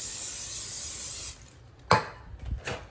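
Cooking spray hisses onto a hot waffle iron in a steady loud burst lasting over a second, followed by quieter bumps and short clatters.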